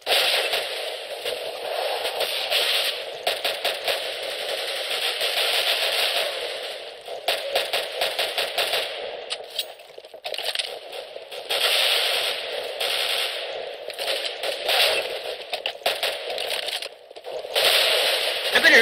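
Rapid gunfire crackles through a match of the video game CS:GO, with dense bursts and sprays of shots repeating across the clip, loud and close, broken by brief pauses.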